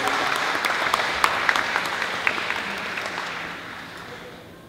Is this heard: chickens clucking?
no